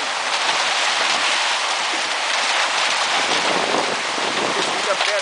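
Hailstorm in Sertãozinho, Brazil: dense, steady hiss of falling hail and rain hammering surfaces nearby, loud and unbroken throughout with no clear talk over it.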